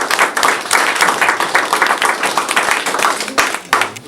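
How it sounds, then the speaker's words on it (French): An indoor audience at a civic reception with the mayor in Metz applauds visiting guests, dense, loud clapping from many hands that swells and carries on steadily for several seconds. "je crois qu'on va tous à nouveau les applaudir"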